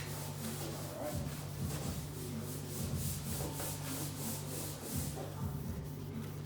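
Forged carbon fiber surface being polished by hand, a soft steady rubbing with rhythmic strokes under a constant low hum, faint and close, without talk.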